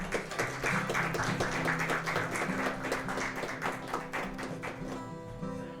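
At a live music venue, the crowd gives a warm round of clapping that carries on steadily, with some low musical tones sounding beneath the applause.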